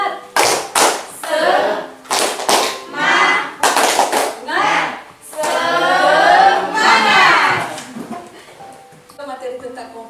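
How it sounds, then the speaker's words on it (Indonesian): Children in a classroom perform the rhythmic Indonesian 'tepuk semangat' clapping game, sharp bursts of claps alternating with loud chanted voices in a patterned routine, close and energetic. "ayo kita lakukan tepuk semangat"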